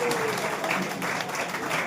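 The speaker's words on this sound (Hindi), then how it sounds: "जोरदार तालियों से इनका स्वागत किया जाए" A crowd claps steadily in a dense burst of applause welcoming a senior journalist at a hawkers' union felicitation event, loud and continuous for a couple of seconds.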